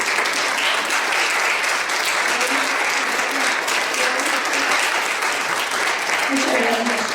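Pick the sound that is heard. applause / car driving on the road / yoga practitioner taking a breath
applause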